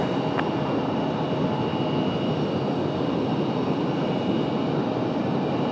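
A Southwest airliner departing Raleigh Durham airport, a steady broadband jet engine roar held at constant loudness from a distance, with no voices.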